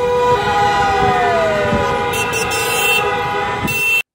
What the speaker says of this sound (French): le billet de bruit de klaxon